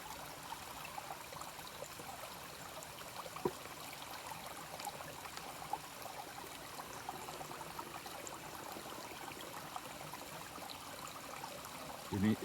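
A cold stream flowing on a solo hiking loop, a steady broad wash of running water that holds evenly throughout, fairly faint and with no one talking.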